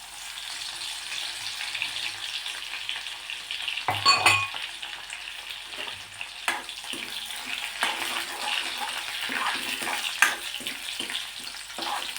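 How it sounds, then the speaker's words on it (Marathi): Garlic frying in hot oil with cumin and mustard seeds for a fresh pea curry, a steady bright sizzle with a louder burst as it goes in, then spoon stirring and scraping throughout, close and alone. "लसूण सोनेरी रंग येईपर्यंत तळून घ्यायचा आहे"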